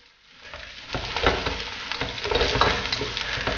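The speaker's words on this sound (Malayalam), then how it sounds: "ഈ സമയം നമ്മളിതിലേക്ക് കുറച്ച് കറിവേപ്പില ആഡ് ചെയ്ത് കൊടുക്കാം" Curry leaves hit hot oil in a pan while cooking a Kerala pepper crab roast, starting with a sudden crackling burst that settles into a continuous close sizzle with occasional stirring scrapes.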